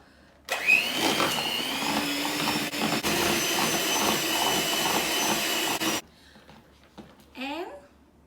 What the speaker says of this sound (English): you will beat with mixer